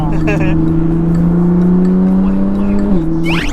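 A Nissan GT-R R35 engine droning loudly from inside the car while driving, its pitch holding steady and then dropping sharply at a gear shift near the end, with voices talking over it.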